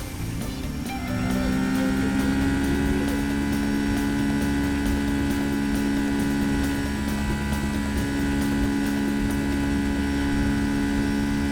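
Simulated airliner engines in X-Plane 11 throttling up on the takeoff roll, a loud steady drone with layered whining tones that swell after the first second and then hold evenly.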